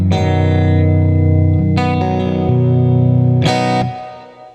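Three bright, twangy chords on a Les Paul electric guitar's bridge pickup, volume and tone full up, are struck one after another, each ringing out with sharp, trebly attacks and a fading sustain.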